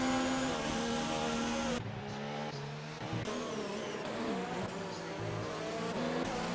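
A Ferrari Formula 1 race car screams past at high revs, its engine note sliding in pitch as it goes by, with other engines droning steadily around it under faint commentary.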